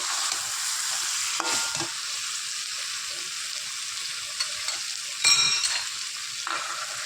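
Chicken sizzles and fries in oil during slow kosha cooking, a steady close hiss with brief stirring scrapes and clatters of the spoon against the pan.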